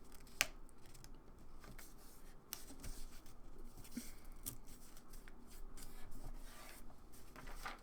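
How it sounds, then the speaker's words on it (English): Printed paper tabs on a small paper model building are folded down one after another, giving soft close-up creases, rubs and crisp little snaps, quiet and irregular, with no talking. "So fold all of them down."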